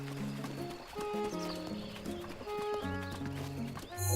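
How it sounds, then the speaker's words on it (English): Clip-clop hoofbeats and a whinny from a donkey in the video game Zelda Breath of the Wild play over a bright, melodic game music backdrop, with steady hoof taps throughout. "The donkey, hold on."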